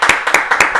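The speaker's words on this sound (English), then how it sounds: "So let's give him a round of applause." Applause from a small audience for a guest being introduced, a short burst of quick rhythmic clapping, close and fairly loud.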